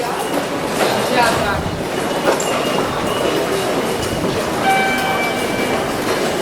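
A train rumbles steadily through a busy Tokyo station with rail and subway lines, a loud continuous roar with faint high squeals and crowd noise, while someone talks over it.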